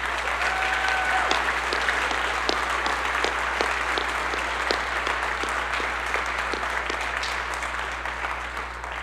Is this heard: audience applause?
yes